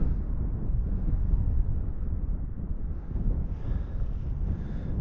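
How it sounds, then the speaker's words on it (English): Steady wind buffeting the microphone, a low rumbling roar that holds throughout with no voices. "It's very windy and very bleak."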